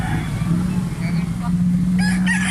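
Chickens and roosters for sale crow and cluck amid a low steady engine hum and background voices, with a rooster's call rising clearly near the end.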